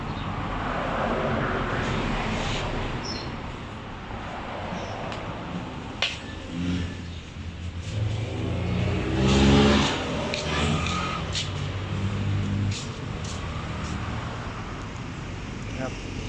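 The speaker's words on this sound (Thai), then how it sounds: "เดี๋ยวมาลอง ฟังเสียงนะครับ สตาร์ทเครื่องกันครับ" A hand-cranked high-speed diesel engine rumbles steadily at close range, a low chugging drone running throughout with occasional clicks and clanks, and someone talks briefly over it.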